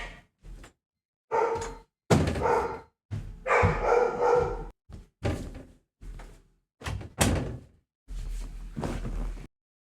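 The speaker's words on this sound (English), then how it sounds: "Sorry about the dogs" Dogs bark in several loud, close bursts spread across the stretch, some single and some in quick pairs, with short silent gaps between them.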